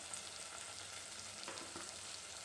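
Tomato rice masala with chilies fries quietly in a pan, a soft and even sizzle with a couple of faint stirring taps. There is no talk.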